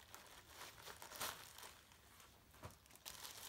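Plastic bag for goalkeeper gloves opened at a side Velcro closure, with soft crinkling and a sharper tearing rip near the middle, then lighter rustles; quiet and close.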